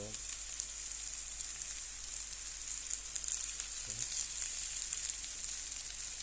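Okra pieces drop onto sautéed onions in a pan, raising a faint, steady frying hiss with a couple of brief clattering additions, near but quiet.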